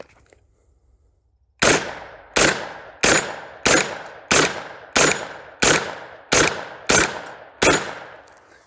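Ten 9mm pistol shots ring out at 15 yards on a steel tree target, each sharp crack spaced about evenly with a short decaying ring after it, loud and close.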